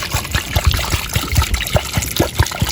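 Water pours and splashes into a pot with a steady gurgling, pulsing in quick irregular bursts, close up.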